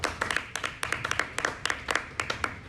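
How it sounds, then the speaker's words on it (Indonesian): Applause at a student culture-and-cinema event, a modest group clapping in loose, uneven bursts with distinct individual claps standing out, fairly close and moderately loud, with no talk over it. "Beri tepuk tangan dulu dong Kak untuk kegiatan ini."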